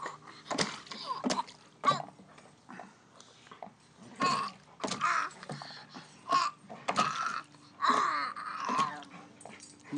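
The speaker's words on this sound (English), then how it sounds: "Allyson, what are you doing in the dog water" A one-year-old toddler splashes in a dog's water bowl, with wet slaps and splatters in irregular bursts close by, mixed with the child's babbling and squeals.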